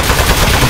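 The toilet gun in the video game Aperture Desk Job fires in a loud, dense burst of rapid gunfire, very close, with no talking.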